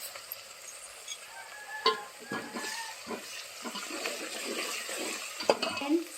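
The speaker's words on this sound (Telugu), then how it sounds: "మొత్తం ఇట్లా గోల్డ్ కలర్ వచ్చేసరిగా వేయించుకోవాలని చెప్పాను కదా." Ingredients with salt, mint and marathi moggu fry until golden in a pan. A soft sizzle runs underneath close, intermittent scrapes and clinks of a spoon stirring against the metal, with no clear talk.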